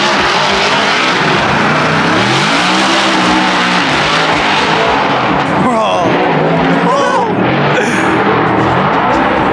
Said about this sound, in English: They're gonna be drifting at like 100 miles per hour.